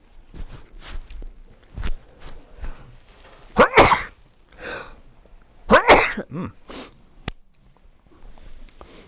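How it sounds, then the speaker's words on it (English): A couple of sharp, close sneezes with sniffing and breathy sounds around them, plus a few soft knocks, no talking. "I'll sneeze here."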